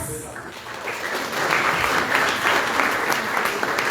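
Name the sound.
audience applause at awards ceremony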